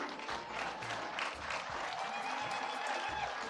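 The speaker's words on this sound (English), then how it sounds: "Let's continue clapping for them." Audience at a climate justice conference clapping steadily in a hall, a continuous wash of applause with light crowd murmur, moderately distant and even throughout.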